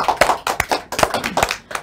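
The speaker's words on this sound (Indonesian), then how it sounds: "Kita tepuk tangan dulu dong" A few people clapping briefly, sparse uneven claps close by, over in under two seconds.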